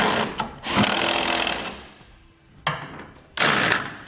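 A power tool with a 15/16 socket runs down the larger side bolts of a B and W underbed gooseneck hitch on a 2019 GMC Sierra, loud close whirring bursts separated by short pauses.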